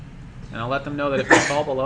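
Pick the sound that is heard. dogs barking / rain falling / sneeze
sneeze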